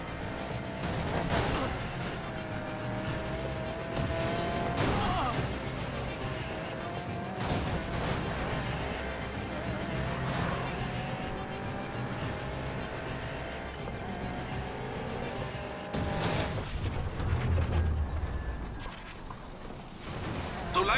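Cars race in Need for Speed Payback: a sustained engine roar with rising and falling revs, broken by several sharp crash impacts and metallic clanks, loud and continuous throughout.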